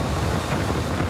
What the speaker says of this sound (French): 1 h du matin, les vents se déchaînent.